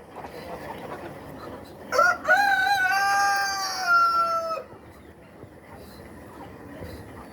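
A bird on a small farm where quails are kept calls out in one loud, drawn-out, crowing cry of about two seconds, heard close over faint background noise.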